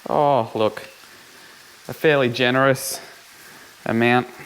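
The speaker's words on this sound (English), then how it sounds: "you can hear that bacon sizzling and the chilies in the background" Bacon and chillies frying in a pan at an outdoor catch-and-cook spot, a faint steady sizzle running underneath and between bursts of close speech.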